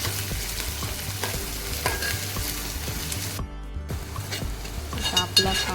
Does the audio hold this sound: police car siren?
no